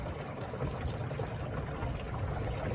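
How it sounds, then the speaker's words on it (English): Water rushes steadily through an RV waste tank as it is flushed out, a close, continuous wash of splashing and gurgling with no voices. "Now we're just flushing our tank out."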